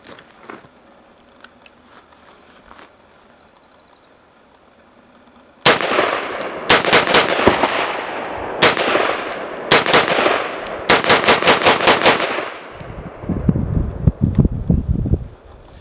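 Rapid semi-automatic gunfire from a rifle fed by a PCV-50 high-capacity magazine, loud bursts of closely spaced shots outdoors after a quiet start, with wind noise and a few scattered shots near the end.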